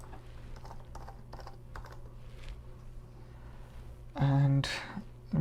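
Keys tapped on a computer keyboard while a password is entered, a light scatter of quiet clicks over steady background hum, ending in a short burst of louder tonal sound.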